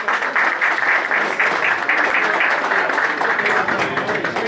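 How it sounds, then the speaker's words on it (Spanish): An audience applauds loudly and steadily at a tango music celebration, a dense wash of clapping sustained throughout with no voices standing out. "Fuertes aplausos."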